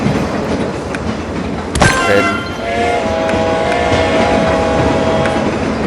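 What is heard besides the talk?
train passing by in the video game TrainStation 2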